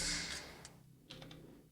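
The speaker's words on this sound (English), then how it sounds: "The first one is a can, which sounds like this." A short metallic can hit from an Elektron Digitakt sample pack, a couple of quick dry ticks and taps followed by a faint ringing decay, heard alone and fairly quiet.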